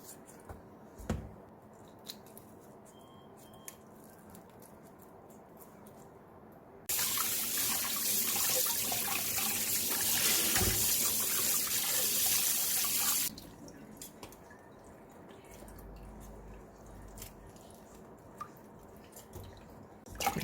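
Water pours steadily into a pot of duck for soup for several seconds, a loud rushing splash that starts and stops abruptly, with quiet kitchen clatter before and after.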